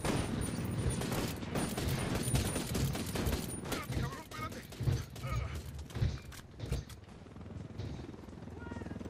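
Rapid bursts of gunfire aimed at an enemy helicopter in the video game Ghost Recon Wildlands, Narco Road DLC, loud and dense throughout with mechanical clatter, while players talk over the shooting.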